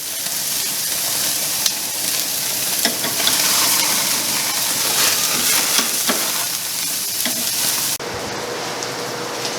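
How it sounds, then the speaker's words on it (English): Tomahawk steaks sear on a barbecue grill with a loud, steady sizzle and crackle that fills the whole span, broken by scattered pops, then drops slightly quieter near the end. "We got a good sear going on those guys."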